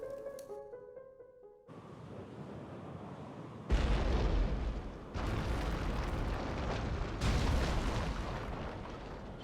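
A bomb explodes in The Legend of Zelda: Link's Awakening on Switch: a quiet chime first, then loud booming blasts, several rumbling bursts one after another, close and heavy, with no talking.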